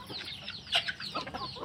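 Chickens kept as a backyard hobby flock cluck in short, close bursts, several hens calling over one another in a brief stretch with no talk.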